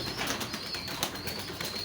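Racing pigeon chicks in a loft make faint, soft bird sounds and light rustling over a steady background hiss.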